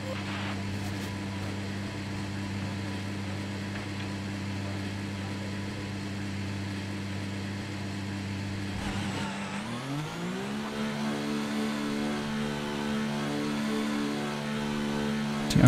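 An F1 race car engine idles with a steady low drone in the F1 2019 video game, then rises in pitch as the car pulls away onto the track at the Hungarian Grand Prix, a continuous engine note with no talk.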